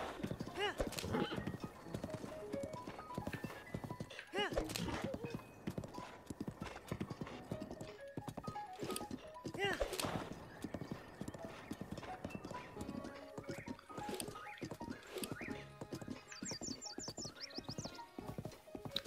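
Horse hooves clip-clop steadily with a neigh or whinny in The Legend of Zelda: Breath of the Wild, the Krog forest setting, busy and continuous game audio with frequent transient hoofbeats.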